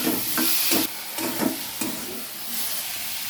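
Tomato tossed into a pan of half-fried onion, salt and grated fresh turmeric, giving a steady steamy hiss and sizzle with a few soft stirring knocks close by.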